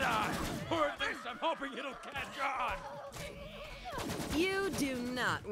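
Rapid gunfire from the Borderlands 3 video game, played as the gunner class, bursts repeatedly through the clip, loud and dense, mixed with game effects and voices talking over it.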